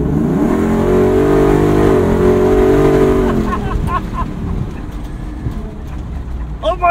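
A restored 1974 Ford Bronco V8 revs loud and close as it accelerates, its pitch climbing for a few seconds before the throttle eases off and the engine note settles under fainter chirps and brief voices.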